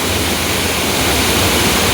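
Oliyathumpara waterfall at Mezhathur roars in a loud, steady wash of falling water that fills the whole clip without a break.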